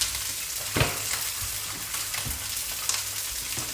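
Vietnamese rice noodles with sriracha are stir-fried in a pan. A constant sizzle runs throughout, with repeated scraping and tossing knocks from the stirring, and no one speaks.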